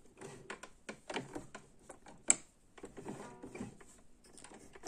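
A sewing machine runs close by, stitching around the edge of a patchwork quilt block in short bursts of rapid mechanical ticking and whirring, with one sharp click midway.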